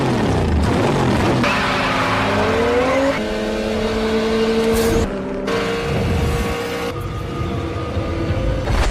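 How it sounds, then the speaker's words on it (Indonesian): Cars race toward a railway crossing in The Fast and the Furious, engines revving and accelerating loudly with rising pitched whines through repeated gear shifts, close and continuous with no talking. "mereka mulai balapan untuk melewati lintasan kereta api"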